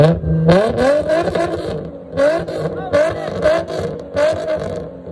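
A supercharged Nissan 350z with an aftermarket eBay exhaust revs hard in repeated loud bursts, the engine climbing and dropping in pitch with a raspy, whining edge, and people talk between the revs.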